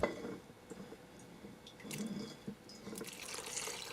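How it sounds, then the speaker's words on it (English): Water is poured over carrots in a jar while preparing a fermented carrot and pea juice, giving a close, splashing trickle with small drips and gurgles. "I'll put a little bit of water in there."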